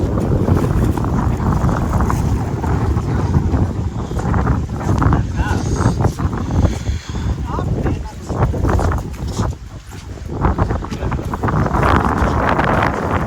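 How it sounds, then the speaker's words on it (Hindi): Water surging and churning over the spillway of a full dam, a loud, continuous roar with rough wind buffeting the microphone and voices talking through it. "जब डैम फुल हो जाता है तो यहाँ चादर चलती है, और बिल्कुल पानी हिलोरे मार रहा है"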